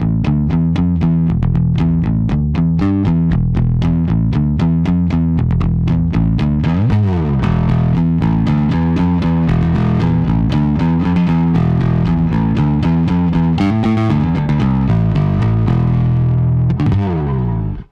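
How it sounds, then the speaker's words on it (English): A bass guitar played through a Genzler Magellan 800 head's drive into Bass Array 12-3 cabinets, gritty and mildly distorted, with steady riffing notes that stay loud and continuous throughout. "the drive is not really a high gain distortion, it's rather a tool to dirty up your bass tones"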